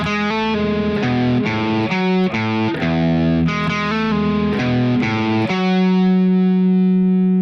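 A distorted electric guitar plays a riff, with choppy palm-muted chords in a driving rhythm ending on a long ringing chord, loud and close with no talking.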